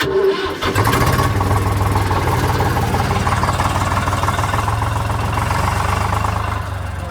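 Tractor engine cranking and catching at a farm with sugarcane nearby, a brief starter whine then a loud, close diesel idle with steady rhythmic chugging that continues to the end, no voices.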